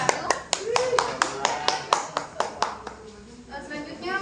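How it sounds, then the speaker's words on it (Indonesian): A classroom group claps in a quick, evenly spaced rhythm during a microteaching practice lesson, the sharp hand claps close and distinct, with some voices mixed in underneath. "beri tepuk tangan kepada kelompok 1."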